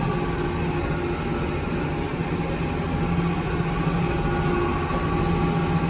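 An IH 886 tractor runs steadily with a Bush-Wacker MD144 mower while clipping a low hay field, a loud, continuous engine drone with mower whine, close and unbroken.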